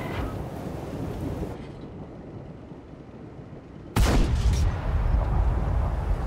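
A single heavy tank gun blast in World of Tanks lands suddenly after several seconds of dull rumbling, followed by sustained loud rumble and crackle.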